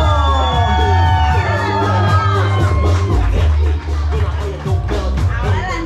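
A wedding party crowd cheers, whoops and shouts over loud music, a dense, continuous roar of many voices with scattered claps, close and steady throughout.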